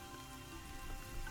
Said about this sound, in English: Look at the water too when the rain hits it.